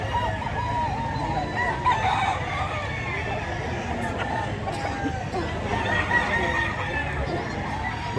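Chickens clucking and a rooster crowing at a poultry sale, a steady busy mix of fowl calls with background chatter and voices throughout.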